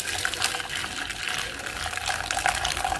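Boiling water poured over a dish-washing sponge with salt in a container, a continuous splashing, gurgling stream, fairly loud and steady, no talk.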